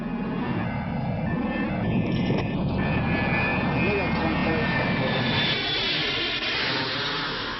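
A jet airplane flies low over Manhattan at about 2,000 feet in darkness, its engine roaring loud and steady throughout, with a voice partly over it.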